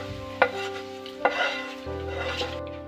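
A tempering sizzles in a pan while it is stirred, with two sharp scrapes and a low steady hum behind, close and fairly quiet, with no talking.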